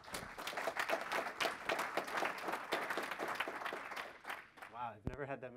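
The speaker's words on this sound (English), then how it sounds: "Wow, I've never had that many people clap for me at once." Audience applause at a Nagios World conference talk as the speaker is introduced, dense clapping for about four seconds that thins out near the end, with some voices mixed in.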